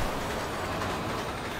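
Train rushing past in the video game Resident Evil 6, a steady rolling roar with a faint clatter of wheels, quiet and continuous for the whole stretch without any talking.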